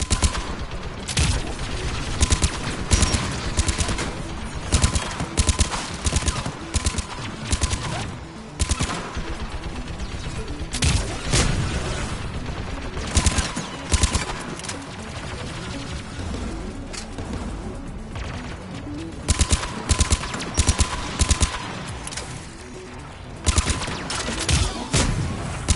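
An automated gun turret in Mass Effect 3 fires in repeated rapid bursts over a long stretch, loud and close, with short pauses between volleys.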